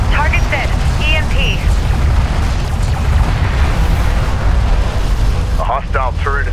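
Artillery fire support in the real-time strategy game Homeworld: Deserts of Kharak rumbles on as a loud, continuous wash of explosions, with short synthetic radio chirps and a voice heard over the din.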